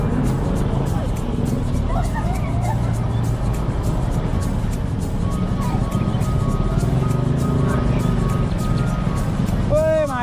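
Dense street traffic jam with a steady rumble of car and motorbike engines and crowd babble, passing vehicles close by throughout, and people talking over the din.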